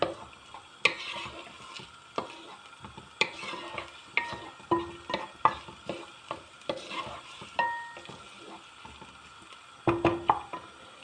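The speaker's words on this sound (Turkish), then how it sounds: "Ve iyice kavuruyoruz." Onions sauté in a pot for green lentil soup, a spoon stirring with a steady run of soft scrapes and clinks over a quiet sizzle, close and fairly faint, with no talk.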